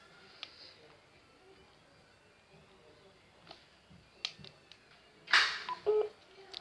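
A phone dials a call, with faint scattered clicks and tones leading to a brief, louder run of dialing tones toward the end, in an otherwise quiet room.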